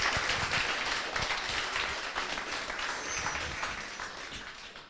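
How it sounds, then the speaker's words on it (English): Steady applause from an audience for the mentors at a live introduction event, continuous dense clapping filling the room for about five seconds with no one speaking. "A big round of applause for the mentors"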